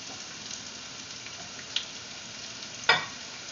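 Onion hits hot oil with golden-browned garlic in a pan, a steady bright sizzle throughout with a couple of sharp pops and spatters, close and without voices.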